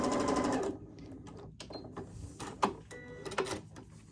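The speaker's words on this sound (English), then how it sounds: "Go ahead and sew that seam." A sewing machine stitches a quilt seam nearby, a fast whirring run at the start followed by quieter clicks and handling noises of the fabric.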